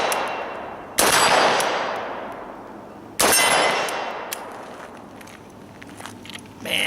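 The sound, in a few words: 5.45 mm Kalashnikov rifle shots hitting steel plates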